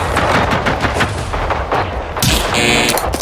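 Loud, sustained rapid gunfire from the video game Generation Zero, dense bursts of automatic shots rattling continuously, followed by a sharp ringing metallic impact near the end.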